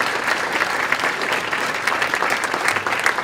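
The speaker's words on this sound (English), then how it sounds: "let's give them a round of applause" An audience at a university entrepreneurship conference applauds student volunteers with sustained, dense clapping that holds steady and fills the room throughout, with no voices rising above it.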